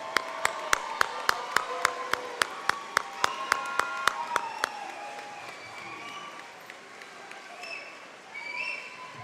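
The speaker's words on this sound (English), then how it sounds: "Now let's give them a big round of applause." Eighth-grade promotion audience applauds, with sharp, evenly spaced claps up close over crowd clapping before fading into voices and murmuring.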